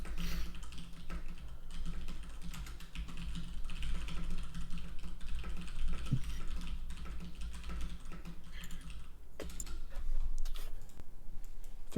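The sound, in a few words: typing notes on a computer keyboard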